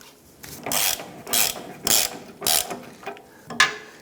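A ratchet clicks in about five short bursts of quick pawl ticks, close and loud, as it tightens bolts on a transmission mount under a 1997–2006 Jeep Wrangler.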